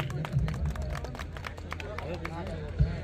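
Crowd at a village tournament opening ceremony in Bandhvad claps in a quick, dense patter of applause, close and lively, with voices chattering underneath.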